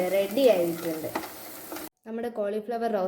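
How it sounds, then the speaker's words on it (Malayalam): Cauliflower roast with curry leaves is stirred in a pan, giving a soft sizzle and scraping under a tonal, hum-like backdrop, broken by a brief near-silent gap before the stirring resumes. "ഇതിലേക്ക് കുറച്ച് കറിവേപ്പില ചേർത്ത് ഇളക്കാം."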